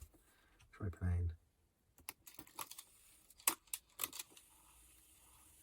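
An Aiwa PX380 personal cassette stereo clunks into play with a soft low thump, followed by a scatter of small, close mechanical clicks and taps from the cassette mechanism.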